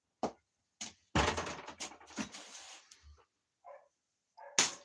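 A few sharp, short dog barks, close by, with a louder burst of rough noise in the middle and one final bark at the end.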